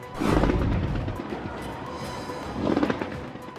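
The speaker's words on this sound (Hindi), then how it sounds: "दर्शकों की गैर मौजूदगी में स्टेडियम में हुई भव्य आतिशबाजी" Fireworks burst over the Tokyo Olympic stadium during the opening ceremony, two rumbling booming bursts with crackling tails, loud and fairly close, no talking.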